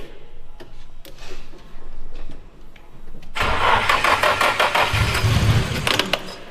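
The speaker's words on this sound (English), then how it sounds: "Turn it on." A Nissan 180SX engine cranks over with a few quiet ticking turns, then fires and catches, settling into a loud, rough, pulsing idle close by.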